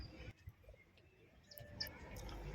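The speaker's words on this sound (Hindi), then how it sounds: "गाय के जाने के तुरंत बाद यह कबूतर आ जाते हैं।" Pigeons coo softly while pecking up scattered grain left where cows have fed, the low coos faint and intermittent over a steady outdoor background with occasional brief chirps.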